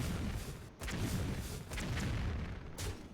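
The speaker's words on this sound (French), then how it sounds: "Ça fait des explosions." Explosions in a mecha-team video game go off in quick succession, dense booming blasts with heavy low rumble, three or four loud bursts separated by brief dips, with no talking.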